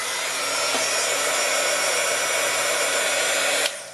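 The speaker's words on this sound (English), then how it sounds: "now the other thing that you need is the heating tool" Heat embossing tool for card making runs steadily, a loud broadband blowing whoosh like a hair dryer that holds for several seconds and then cuts off abruptly near the end, with no talking.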